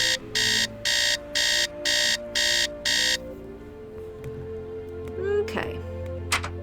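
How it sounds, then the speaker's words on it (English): Loud alarm clock in a Nancy Drew mystery game, ringing in seven evenly spaced electronic bursts before stopping, followed by quieter background game sounds. "Nancy's super loud alarm clock"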